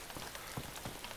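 Rain falls in the survival video game DayZ as a steady, faint hiss of drops on surfaces, continuous and even with no voices over it.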